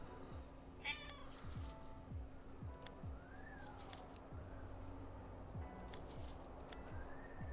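A cat meows several times, short rising calls spread across a quiet indoor scene with light jangling and clinking and a faint steady hum in the background.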